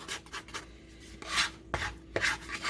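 A bench scraper rubs and scrapes across dough on a work surface to press it together, giving soft, close, intermittent scraping strokes with a few sharper taps and no talking.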